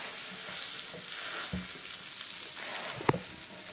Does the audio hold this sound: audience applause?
no